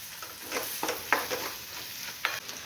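Spinach and crushed raw peanuts sautéing in a pan, a soft continuous sizzle broken by several quick scraping stir strokes, close and fairly quiet with no talking.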